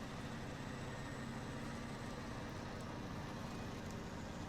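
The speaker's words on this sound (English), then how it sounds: "I'm sure they won't mind this giant truck trundling through the roads." A giant truck trundles along roads in the video game Snowrunner, its engine a steady, even, low rumble that holds without a break.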